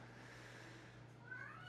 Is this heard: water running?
no